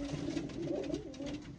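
A male racing pigeon coos softly and steadily in a continuous low throaty burble, with no talk over it.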